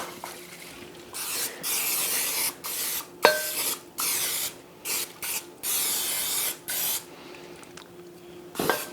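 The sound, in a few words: cooking spray on slow cooker insert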